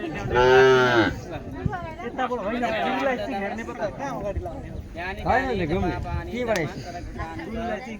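A cow at a Hindu donation ritual lets out one loud, close moo at the start, then people talk over a busy background for the rest of the clip.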